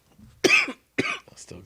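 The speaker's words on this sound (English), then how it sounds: "You need a good cough." A person coughs in two sharp, close bursts about half a second apart, followed by a softer trailing bit of throat noise.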